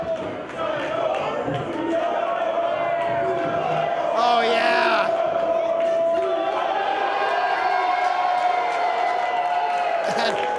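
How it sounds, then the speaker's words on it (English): A wrestling crowd in Hamilton roars and cheers steadily at a LuchaDoors match, with a commentator talking over the noise and a short shout near the start. "Crowd going crazy here in Hamilton with the appearance of the door"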